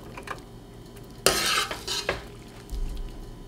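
Blanched lettuce stems go into hot oil to be stir-fried, with a sudden loud sizzle burst followed by quieter crackling and utensil stirring scrapes in a home kitchen.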